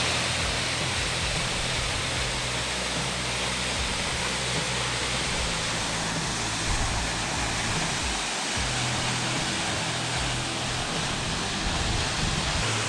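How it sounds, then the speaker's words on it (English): Chiva Falls, a large waterfall system in Redington Pass outside Tucson, Arizona, gives a constant, dense rushing roar that holds steady throughout. "It's a pretty big waterfall system out here in Redington Pass, just outside of Tucson, Arizona."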